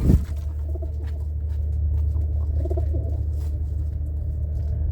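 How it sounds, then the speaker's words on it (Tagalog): A pigeon's low cooing comes in a couple of soft bursts over a steady rumbling background hum in a loft, with no talking. "ito yung kalapati na tumuko dito sa ating loop"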